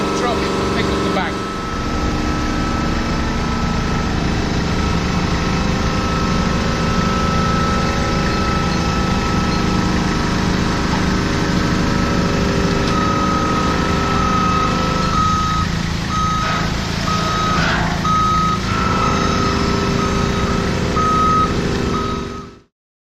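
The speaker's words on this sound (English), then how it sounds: "we'll drive in with the fork of the truck and pick up the bag." A forklift truck runs steadily at close range throughout, its engine droning loudly while a high reversing alarm beeps repeatedly in the latter half as it moves in to pick up a bag at a water recycling system.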